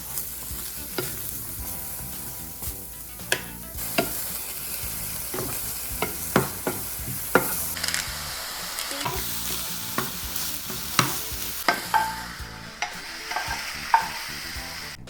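Mushrooms stir-fry in a pan for japchae, giving a quiet continuous sizzle broken by regular sharp scrapes and knocks of a utensil against the pan.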